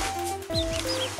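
Baby ducklings indoors at Easter, cheeping and peeping in short, bright bursts, close to the microphone.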